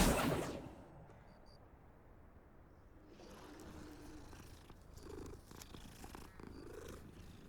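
A cat in the video game Hogwarts Legacy purrs softly and continuously, a faint close rumble after a brief louder burst at the start, with no talk.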